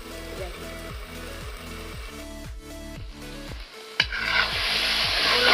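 Chicken pieces sizzle and are stirred in a pan for a curry, with a steady rhythmic backing under the cooking noise and the sizzle growing louder and fuller in the last seconds.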